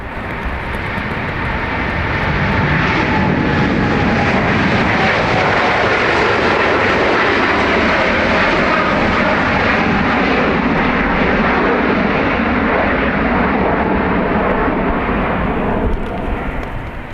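A jet airliner takes off at Dublin Airport: a loud, broad engine roar swells over the first couple of seconds and then holds steady and powerful for the rest of the stretch, with no talk over it.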